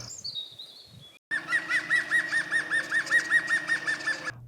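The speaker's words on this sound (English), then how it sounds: "I learned to identify the most common birds on the island only by sound." Songbirds on an island call outdoors: a brief high whistled note, then a pause, then a long, close, rhythmic warbling phrase of repeated trills that stops abruptly.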